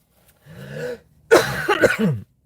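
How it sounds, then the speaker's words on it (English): Two dry, raspy coughs from one person, close and fairly loud, separated by a brief pause, with no talking. "Guys, I got the dry cough."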